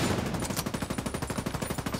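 Automatic gunfire in The Division 2, a rapid rhythmic burst of about twenty evenly spaced shots, sharp and close, with no voices over it.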